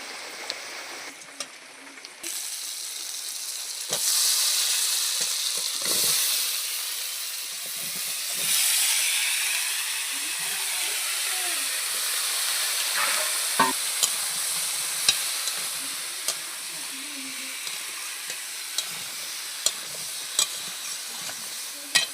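Vegetables fry in a pan with turmeric and chilli powder, a loud continuous sizzle and hiss with repeated stirring scrapes and sharp utensil taps against the pan, close up and with no talking.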